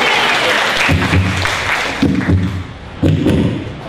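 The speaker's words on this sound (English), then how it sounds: "Go on, go on, give it a round of applause." A workshop audience bursts into applause mixed with several heavy thumps, rising in surges over a few seconds, close and fairly loud.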